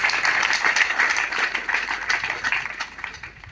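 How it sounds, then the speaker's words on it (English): A church congregation claps together in a rhythmic, moderately loud burst that slowly fades, with the hand claps blending into a lively indoor wash. "If you know you have an Exodus, clap for Jesus because of that."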